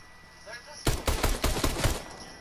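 Rapid gunfire in the video game Fortnite, a dense burst of about eight sharp shots in quick succession after a quiet start, loud and close, with faint voices in the background.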